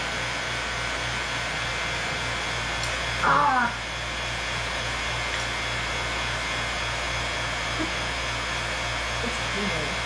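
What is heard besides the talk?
vacuum pump running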